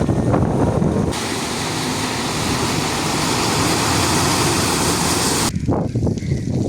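Flood water rushes steadily past in Nallur, a loud, continuous broadband roar like heavy surf that sounds close and unbroken, with brief quieter moments at the start and end.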